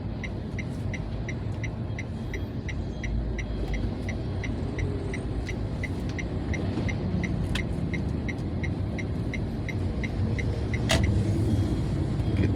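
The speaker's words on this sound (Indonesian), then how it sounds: "Kendaraan sangat padat ini, pada antri BBM semua sih sepertinya." Dense road traffic of vehicles queueing for diesel fuel near Tanjung Barangan, Palembang, Sumatra, a steady low engine rumble with a faint rhythmic ticking repeating throughout and no talking.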